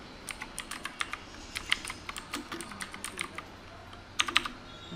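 Fast typing on a computer keyboard while entering text in Adobe Illustrator, a steady run of crisp close clicks with a brief quicker burst near the end.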